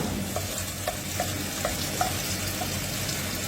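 Onion fries and browns in a pan with a steady, close sizzle, broken by occasional soft stirring scrapes.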